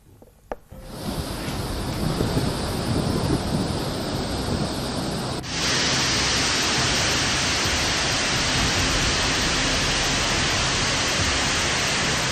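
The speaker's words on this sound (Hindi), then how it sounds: "आसमान से बरसती बारिश की बूंदों ने जमीन पर हाहाकार मचा दिया।" Heavy monsoon rain pouring down in a broad, steady roar that thickens abruptly after a few seconds and stays dense and loud, with no voices heard.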